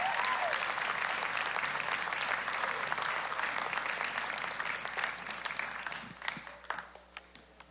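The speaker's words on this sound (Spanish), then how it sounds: "Si usted puede, darle un aplauso al Señor." A church congregation gives sustained, full applause that holds steady and then gradually fades into a few scattered claps at the end.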